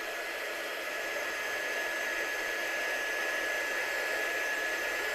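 A heat gun blows hot air steadily for heat embossing a stamped image on a handmade card, a constant loud close-up whoosh with no variation or talking throughout.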